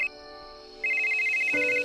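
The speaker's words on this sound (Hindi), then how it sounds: "तभी उसकी वाइफ का फोन आया।" A phone rings with an incoming call from a wife, giving a short electronic ringtone of steady repeating tones that sits close and clear with no talking.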